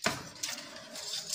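A baking dish of chicken thighs in black pepper sauce slides into a preheated oven, a brief close clatter of metal and ceramic with a light clunk, no talking.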